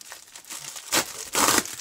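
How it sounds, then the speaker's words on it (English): Perforated plastic wrap torn off a Pokemon TCG Burning Shadows booster box, close crinkling with two sharp tearing rips. "Just tear a perforated edge."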